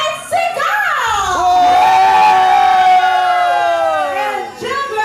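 A party crowd of young adults aged 25 to 35 at a church year-end party lets out a loud, sustained collective shout on cue, rising and holding for several seconds before tapering off.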